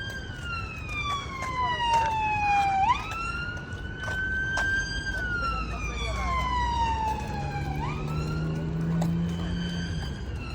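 Ambulance siren wailing with rising and falling sweeps on a main road closed to other traffic, loud and continuous, with a low engine rumble beneath it near the end.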